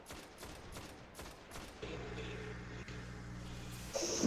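Gunfire in the Destiny shooter game, a rapid run of sharp shots followed by a steadier droning burst, moderately loud, with no voices heard.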